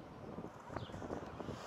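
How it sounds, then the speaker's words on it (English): Soft, steady wind rushes faintly across the microphone with light buffeting gusts, low and continuous throughout. "It's a little bit windy today."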